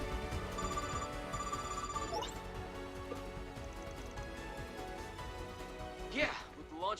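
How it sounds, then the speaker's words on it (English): Telephone ringing in the video game Trails, a steady electronic ring repeating through the first couple of seconds, faint under game music, with a voice speaking briefly near the end. "Is that the phone call to Garten?"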